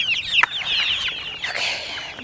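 Hungry farm chickens cluck and squawk before breakfast, several birds calling in overlapping bursts close by, with a brief thump partway through and no talking.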